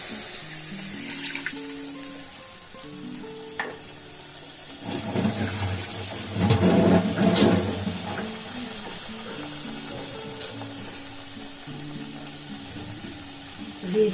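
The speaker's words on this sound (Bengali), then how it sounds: "একটু মিক্সি ধোয়া জলটা দিয়ে দিলাম।" Water left from rinsing a mixer grinder is poured into a cooking pan in a home kitchen, a rushing splash with sizzle building midway over a steady background, close and moderate.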